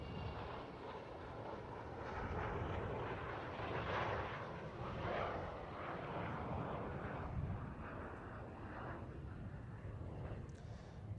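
An Avro Vulcan bomber makes a pass over RAF Waddington with its undercarriage down, its engine roar rising and falling at a moderate distance, heard alone without voices.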